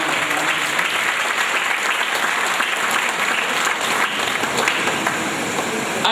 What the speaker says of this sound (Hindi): अच्छा लगा ये देखकर कि पुरुषों ने भी ताली बजाई।